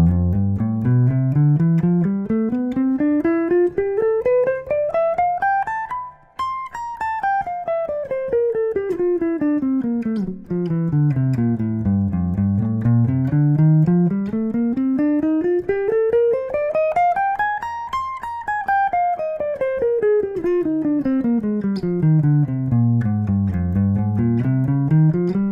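An electric guitar improvises through the circle of fifths in sustained, continuous lines that climb smoothly and then descend in repeated waves. The playing stays steady and loud throughout, with no speech.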